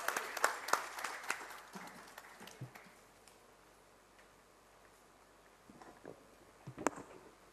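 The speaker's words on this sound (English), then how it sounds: "Ladies and gentlemen, huge round of applause for Dr. Sangita Reddy." Audience applause at the inaugural address of the Dakshin Healthcare Summit 2024 in a hall, a brief burst of clapping that fades into scattered claps and a quiet room, with a few isolated claps near the end.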